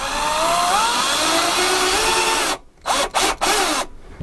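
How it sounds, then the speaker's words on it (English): A power drill drives self-drilling bits into drywall, whirring steadily and loudly up close, then stopping and restarting in a few short bursts. "Take your drill, line up the holes here with these self-drilling bits right here."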